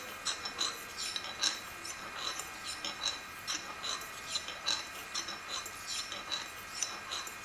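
A straight razor is honed Japanese style in a figure-eight motion on a stone, making rhythmic, gritty scraping strokes that repeat steadily and close by.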